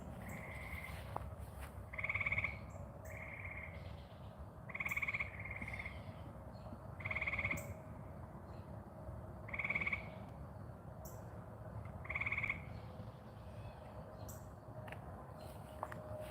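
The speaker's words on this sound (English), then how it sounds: "Tree frogs are out." Tree frogs croak in repeated bursts of a few calls about every two to three seconds, carrying over a steady low rumble of outdoor background noise on a farm after a storm.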